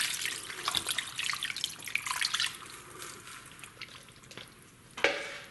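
Water poured into a cooking pot for pork hock and sauerkraut, a steady splashing stream of a quart that thins out, then a brief sharp splash near the end.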